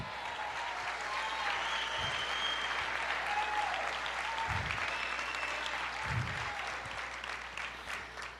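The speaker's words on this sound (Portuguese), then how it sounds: "Aplauda mais" Steady applause from a church congregation at a sermon, holding at an even level throughout with a few low thumps underneath.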